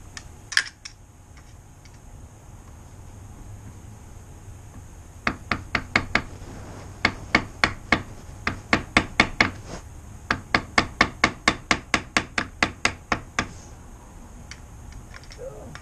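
A small washer on a 1995 Honda Shadow motorcycle clutch is tapped into place with a long series of sharp, close metallic taps in quick irregular bursts, loud against a quiet background.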